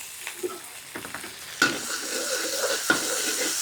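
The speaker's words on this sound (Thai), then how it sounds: "น้ำมันร้อนแล้วค่ะ ใส่พริกกระเทียมลงไปค่ะ" Chili and garlic drop into hot oil for a Thai stir-fry of mushrooms with minced pork, bursting into a loud sizzle with a few sharp pan knocks as they are tossed, close and continuous.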